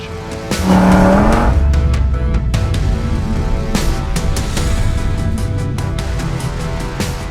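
A Lexus LFA, Porsche Carrera GT and Audi RS3 launch together in a drag race. Loud, close engines rise sharply in rising revving tones, and high-rpm howls with quick gear-change breaks carry on throughout.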